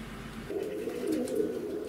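Pigeons in a loft at early morning give a soft, continuous low cooing, steady and close, with no voices.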